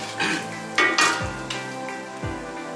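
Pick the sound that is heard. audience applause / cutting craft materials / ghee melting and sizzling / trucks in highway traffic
ghee melting and sizzling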